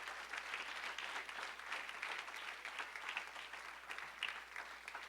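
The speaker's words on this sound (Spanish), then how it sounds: "Dale un aplauso fuerte a Jesucristo." A church congregation applauds at the end of a sermon, a steady wash of many hands clapping together, fairly distant and soft, lasting throughout with no talk over it.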